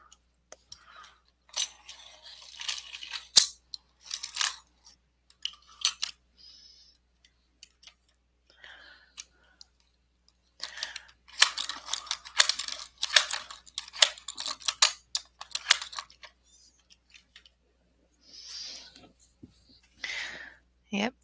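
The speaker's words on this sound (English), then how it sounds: "my sharpener is being fussy today" Handheld pencil sharpener grinding a pencil point in irregular scratchy bursts, close and fairly quiet, with soft whispered talk between the sharpening runs.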